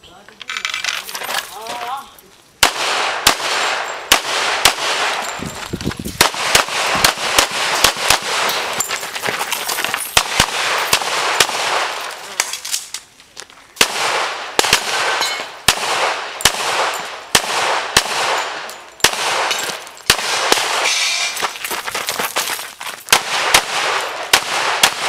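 Shooters fire at a practical shooting range, producing sharp, loud cracks in rapid irregular bursts over about 25 seconds. Brief pauses separate the strings of shots, with metallic clatter and faint voices in the background.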